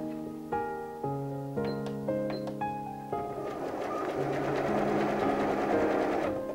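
Sewing machine sewing a medium-width zigzag stitch near the edge on the ends of recycled denim jeans for a bag, a few short rhythmic starts followed by a longer continuous run, close and moderately loud.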